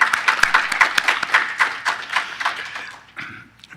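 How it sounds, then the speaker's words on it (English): An audience at a hacker conference gives a short burst of clapping, dense at first and then thinning out and fading after about three seconds. "I think he deserves a round of applause"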